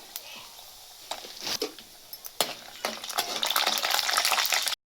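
Moong dal, urad dal, mustard seeds, cumin and peanuts hit hot oil as tempering for upma. Scattered pops and clinks build into a steady, brightening sizzle, with stirring against the pan.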